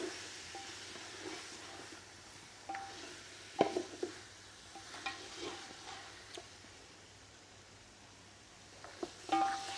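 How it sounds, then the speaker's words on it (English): Beef for pilau stirred in a pot over an outdoor wood fire, with a steady low background and scattered scraping clacks of the spoon against the pot, a couple of sharper knocks standing out, fairly quiet overall. "And keep stirring it because you don't want this meat to burn."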